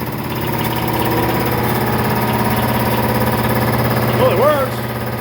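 A freshly repaired air compressor with a new pump runs with a steady, close mechanical drone and rhythmic chugging, while someone speaks briefly over the noise.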